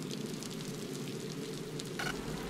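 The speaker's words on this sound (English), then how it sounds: "the water dripping from the stalactite" In the Scanner Sombre cave, water drips from a stalactite as soft, scattered drops over a steady rain-like wash, with one sharper drip near the end.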